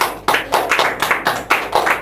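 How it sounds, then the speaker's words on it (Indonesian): A classroom audience claps for a student after her presentation: a dense burst of many hands, with several quick surges across two seconds, fairly close and lively. "Beri aplaus dulu untuk Fatria"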